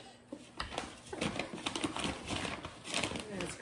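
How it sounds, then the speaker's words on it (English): A cat rummages through paper, giving close, uneven crinkling and rustling bursts with soft pattering, fairly quiet throughout. "my cat is going to rummage through some paper and make a whole bunch of noise"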